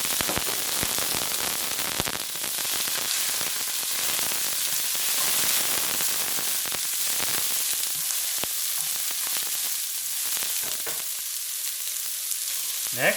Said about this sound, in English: We're gonna add the 1 cup of frozen peas and carrots